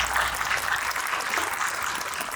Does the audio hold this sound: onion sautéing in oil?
no